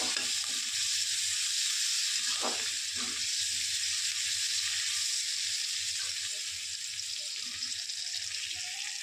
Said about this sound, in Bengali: এবার আমি কুচনো পেঁয়াজগুলো দিচ্ছি, কুচনো পেঁয়াজগুলো দিচ্ছি, একটু নাড়াচাড়া করে নিচ্ছি পেঁয়াজগুলো